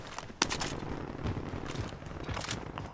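Shotgun blasts in a first-person shooter video game: one sharp loud report early, followed by further scattered bursts of gunfire and mechanical clatter amid a busy battle background.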